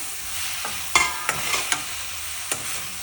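Tomato added to okra frying in a pan for an Andhra tamarind gravy, followed by a steady oil sizzle and a few sharp scraping clicks of a spoon being stirred through. No one talks.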